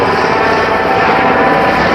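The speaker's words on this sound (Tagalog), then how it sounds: "Daming helicopter eh, no?" Helicopters flying over Las Vegas in the morning, a loud, steady broadband rotor and engine roar that fills the whole stretch without a break.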